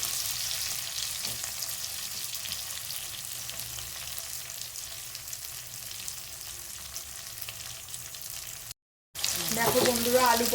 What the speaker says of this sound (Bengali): ঝোলের জন্য আলু পটলগুলো যে কাটা ছিল সেগুলো ভেজে নিই